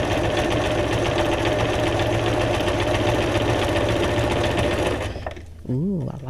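Sewing machine stitching continuously at a steady fast rhythm, loud and close, then it stops abruptly near the end and a voice speaks briefly afterward.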